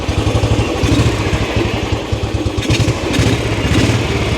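Ariel motorcycle engine running just after a new ignition coil was fitted: a steady, loud, close idle with rapid, even firing pulses and mechanical clatter, held throughout with no talking.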